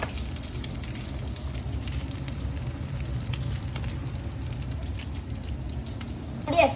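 An egg fries in a pan with a steady, close crackling sizzle that holds evenly throughout, ending with a brief louder clatter.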